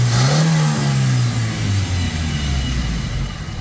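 A Toyota 2E petrol engine with a freshly overhauled carburetor catches at once and revs, a loud mid-pitched roar that swells early and then settles into a steady rumbling run close by.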